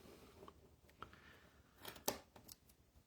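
Scissors snip tape while making a handmade card, a few faint, crisp cuts clustered near the end, quiet and close, with no talking.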